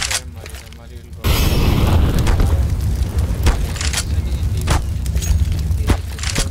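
A molotov cocktail ignites in Counter-Strike: Global Offensive on the Inferno map. A sudden loud whoosh of flame grows into a dense, roaring burn, and sharp crackles and pops stand out through it while the fire holds steady.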